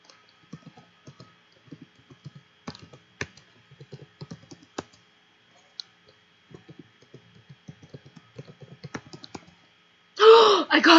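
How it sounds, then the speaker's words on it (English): Close, quiet keystrokes tap out in irregular bursts on a computer keyboard, with pauses between, before a voice breaks in at the end. "Do I have to type it out like that?"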